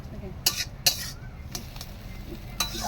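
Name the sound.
stirring ash gourd curry in a pan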